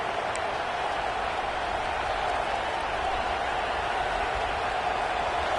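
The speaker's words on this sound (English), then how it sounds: "It's early, but this crowd is fired up. Listen to this noise here." A fired-up college football stadium crowd at an Ole Miss versus Georgia game makes a dense, continuous roar that stays steady and loud, with no single cheer standing out.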